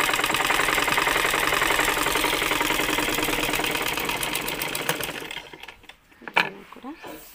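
A sewing machine stitches cloth for a dress in a steady, rapid whir lasting about five seconds, then stops, leaving a few faint handling clicks.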